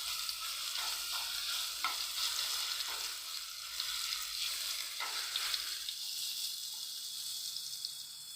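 Ginger garlic paste frying in a pan with curry leaves for a bottle gourd curry gives a steady, fairly close sizzle with occasional soft stirring scrapes.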